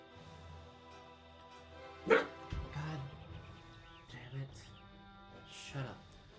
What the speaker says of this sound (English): My dog is old and he just goes off at any sound.